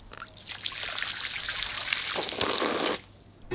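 Water trickles and pours steadily from a pool as it is collected, a continuous close splashing stream that swells into a heavier gush before cutting off abruptly.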